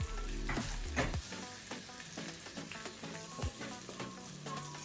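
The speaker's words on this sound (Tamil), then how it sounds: "நல்லா கிளறி விட்டுக்கிறேன்" Ground roasted masala being stirred into softened tomatoes in a pan for fish curry, a steady close sizzle and fry broken by scraping spoon strokes, with no talk.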